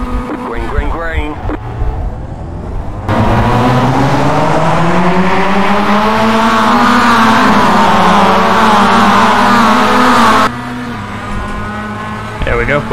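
Mazda MX-5 race cars in the iRacing video game at Imola, engines droning loudly and steadily as they pile into the first-turn chicane, pitch rising and falling through the corner with brief quieter moments at the start and end.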